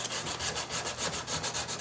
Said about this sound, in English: try and sand it out